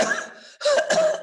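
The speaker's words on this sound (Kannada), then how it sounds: "ನೋಡಿ ಕೆಮ್ತೀನಿ" A person coughs twice, close and loud, with a short pause between the harsh bursts and no talking.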